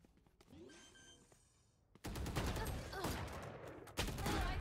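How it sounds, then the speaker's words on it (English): Rapid gunfire from the video game Valorant bursts in loudly after a quieter stretch, dense and sustained with sharp shots near the end, while players talk over it. "I just got shot through a fucking box."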